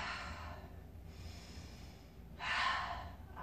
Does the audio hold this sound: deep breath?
yes